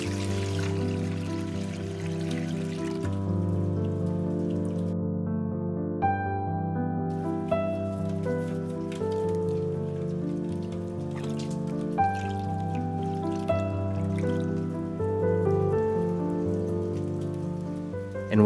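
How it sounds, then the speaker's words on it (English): Water streams steadily over a coconut being rinsed in a kitchen, a continuous splashing patter with a sustained musical backing underneath, no voices. "A quick rinse for this coconut."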